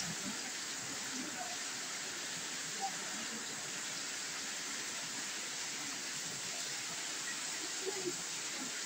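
Water pours down from inside a hillside near a cave. It makes a continuous, even rushing roar, loud and unbroken like a waterfall, with no clear voices over it.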